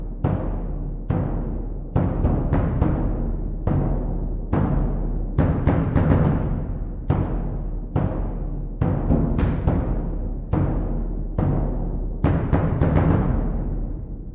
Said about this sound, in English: I added this bass drum in the second half of the first section